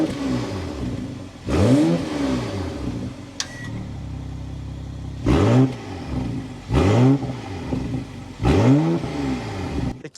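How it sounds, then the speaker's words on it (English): A 2026 BMW M440i Coupe fires up and blips its throttle, its exhaust note swelling in four loud, rising-and-falling revs separated by a steady idle. "start it up, so you can hear that exhaust note"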